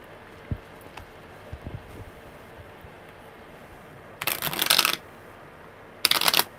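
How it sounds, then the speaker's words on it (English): Tarot cards are riffled in two quick bursts, a longer riffle followed by a shorter one, after a few faint taps and handling noises. "Okay, one more good shuffle."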